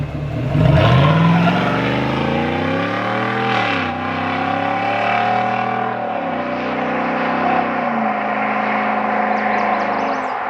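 A Chevrolet Silverado ZR2 off-road pickup with aftermarket exhaust starts up and its engine swells and falls through several loud revs, then settles into a deep, steady idle close by.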